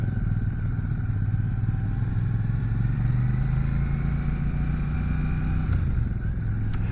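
A Royal Enfield Shotgun 650 two-cylinder motorcycle under way, its engine a loud, steady, close rumble with a slight rise in pitch partway through and road noise underneath, no talk.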